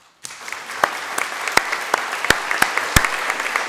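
A board of trustees meeting breaks into applause for a retiring staff member; the clapping begins abruptly, with a few sharp, close claps standing out over a thinner patter from the room.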